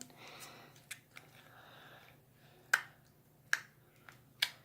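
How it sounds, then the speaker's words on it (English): Foam bead slime being poked, giving several faint, close, sharp little pops and squishes at irregular intervals over low background hiss. "I like that poking noise."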